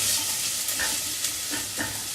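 Softened onions sizzle and crackle steadily in a pan for tomato soup, heard up close with occasional stirring scrapes and no talking.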